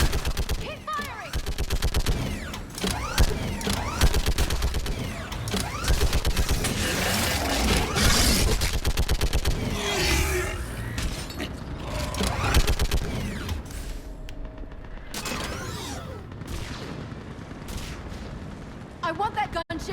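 Rapid automatic gunfire rattles in Mass Effect 3 during a battle on Thessia, with dense bursts and heavy impacts that stay close and loud for most of the stretch, thin out toward the end, and are mixed with shouted voices.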